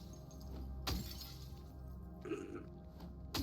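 Glass smashes in Silent Hill 2 Remake, with two or three sharp crashing breaks spaced over a few seconds above a low steady game ambience.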